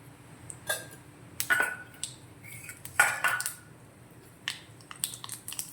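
Mustard seeds and urad dal dropped into hot oil in a pan for a Tamil sundakkai kuzhambu, giving faint scattered crackles and pops with light clinks of utensils against the pan.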